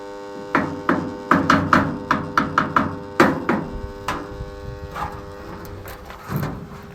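Electric irrigation water pump motor running on an Indian farm, a steady low hum held throughout with a series of sharp, close taps and knocks over it.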